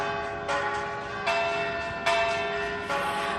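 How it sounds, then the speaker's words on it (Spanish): Church bells in Valladolid, Spain, ring at midday to announce a new archbishop, in a steady rhythm, each strike roughly every second, with a rich lingering tone and no voices. "Así sonaban este mediodía las campanas en Valladolid para anunciar que ya tiene nuevo arzobispo."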